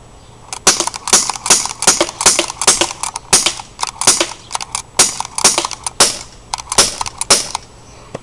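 Marines CP01 airsoft gun shooting at a white box target, a steady run of sharp, snappy shots, some in quick pairs, close and loud with no talking.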